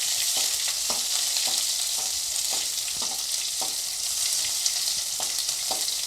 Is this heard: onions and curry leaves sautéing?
yes